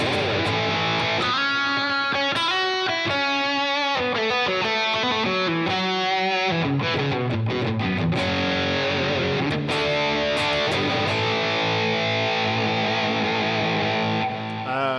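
Distorted electric guitar with Fishman Fluence pickups playing a melodic line, washed in echoing delay and spacious reverb, steady and loud throughout with no voices.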